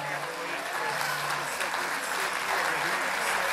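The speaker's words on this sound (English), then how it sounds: "Clap your hands." A church congregation claps their hands during a sermon, a loud, dense, sustained wash of many hands clapping together for several seconds, with voices faintly mixed underneath.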